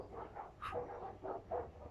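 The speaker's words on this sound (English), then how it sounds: "Dogs are barking." Dogs barking in the distance, about five faint, evenly spaced barks behind a quiet indoor background.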